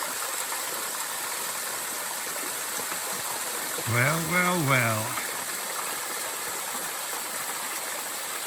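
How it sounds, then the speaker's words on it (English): Rushing water from a small waterfall tucked back along a trail in the Pharaoh Lake Wilderness makes a constant broadband wash, with a brief spoken word partway through. "I had no idea there was a waterfall tucked back in here."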